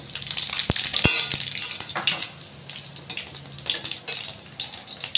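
White cumin seeds hit hot oil alongside frying fish, giving a steady crackling sizzle with a few sharp pops early on and busy spattering throughout.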